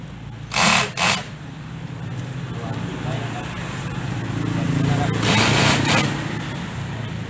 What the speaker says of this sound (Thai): สว่าน